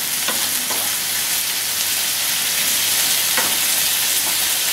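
Gluten- and wheat-free beef and rice stir fry sizzling hard in a pan, a loud, continuous close-up hiss with a few faint stirring clicks, no voices.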